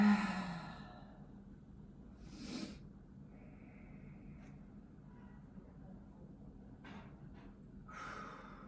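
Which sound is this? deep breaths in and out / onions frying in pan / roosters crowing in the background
deep breaths in and out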